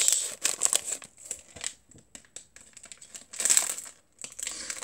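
A plastic Lego DC collectable minifigure blind bag crinkles and rustles up close as scissors snip into it, with quiet bursts of crumpling separated by brief pauses.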